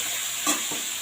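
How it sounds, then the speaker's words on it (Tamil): Broad beans being stir-fried in a pan are given a light stir, a brief scrape and sizzle with two soft accents, close by and alone. "லைட்டாக அப்படியே கிளறிட்டு"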